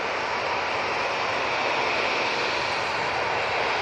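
An easyJet jet airliner on its takeoff roll at Manchester Airport gives a loud, continuous, even roar of engines with no pauses and no voices.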